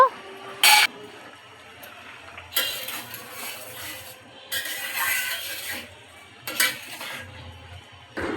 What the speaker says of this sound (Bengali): ঢাকনা খুলে দেখে নিচ্ছি কেমন সিদ্ধ হলো।